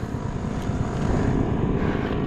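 A camera drone flying during an outdoor ride, its steady propeller whine and broadband rotor noise sustained and fairly close, with no speech over it.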